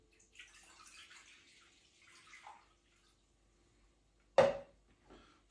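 Half a litre of lukewarm water is poured into a mixing bowl for bread dough, a short, sharp splashing pour that stands alone in a quiet kitchen, with soft handling noises before it.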